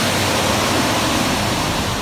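Indoor waterfall in the Gaylord Rockies resort atrium in Denver produces a dense, even rush of falling water, constant and fairly loud for the whole moment.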